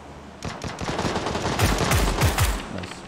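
In PUBG, a few scattered shots give way to loud, rapid machine-gun bursts at close range, with punchy low thumps layered over the crackle of the fire.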